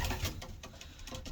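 Pigeons from a breeding pair of Dirk Van Dyke and Cannibal bloodlines cooing in a loft: soft, low, repeated coos in a short stretch amid faint rustling and background noise.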